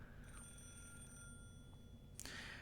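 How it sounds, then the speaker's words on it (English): A telephone rings inside the visual novel Higurashi, thin steady electronic tones held for about a second, then a short bright chirp near the end, faint and distant over a low background hum. "The phone continued to ring."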